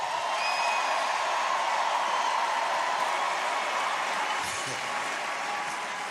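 A large comedy-show audience applauds loudly and steadily, a dense wash of clapping with faint cheers, easing slightly toward the end.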